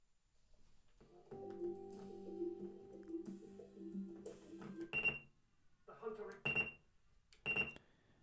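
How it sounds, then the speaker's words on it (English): An MP3 player beeps sharply three times in use over a soft tonal hum, the beeps spaced a second or two apart, near and clear. "it actually beeps when you're using it"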